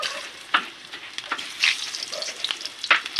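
Chicken gizzards frying in hot oil, a steady crackling sizzle with sharper pops and bursts scattered throughout, close and fairly loud with no talking.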